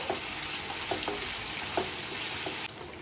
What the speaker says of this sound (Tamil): சிக்கனை கிளறி விட்டுக்கிட்டே இருங்க. அப்போ தான் ஈவனாக வேகும்.